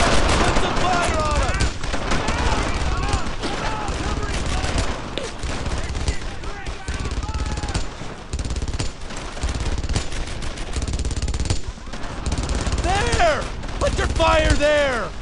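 Sustained battlefield gunfire from Brothers in Arms: Earned in Blood, a long stretch of overlapping rifle and machine-gun bursts with shouting soldiers' voices throughout, loud and dense with brief lulls.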